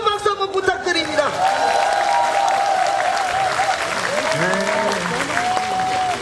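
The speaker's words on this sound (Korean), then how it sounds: "뜨거운 박수 한번 부탁드립니다." Outdoor festival audience applauding a tightrope walker at a Korean traditional music event, dense clapping sustained throughout while someone speaks and musical tones ring over it.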